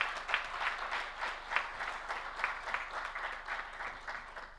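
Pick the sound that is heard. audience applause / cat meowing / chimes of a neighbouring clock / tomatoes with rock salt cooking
audience applause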